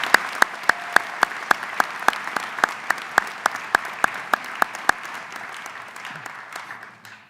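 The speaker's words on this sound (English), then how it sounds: "Round of applause, please." An engineering college commencement crowd gives a round of applause. Dense clapping comes with a few loud, evenly spaced claps near the microphone, then fades over the last couple of seconds.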